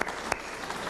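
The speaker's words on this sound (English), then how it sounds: "A hand for both," A 1992 motorsports banquet audience applauding, a short burst of steady mid-level clapping with a couple of sharper claps standing out, no voices.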